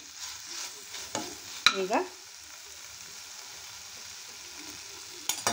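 Tomato frying in a pan for a spine gourd fry, with a brief stirring scrape and sizzle near the middle over a quiet background hiss.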